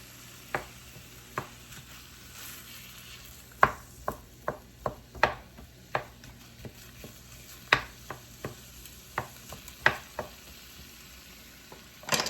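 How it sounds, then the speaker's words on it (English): Just under a pound of ground beef browns in a pan, with a soft sizzle beneath a run of sharp, irregular spatula scrapes and taps against the pan, close and fairly loud. "Go ahead and brown up my ground beef."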